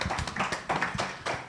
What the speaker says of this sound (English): let's give him a round of applause for braving it out.